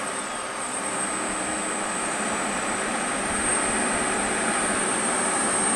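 An e-bike hub motor on a 1500W, 50-amp controller spins under throttle, producing a steady whining drone with a high electrical tone that swells slightly as the throttle rises, with no talking.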